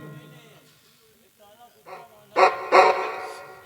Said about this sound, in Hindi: वो कुत्ता बंधा हुआ है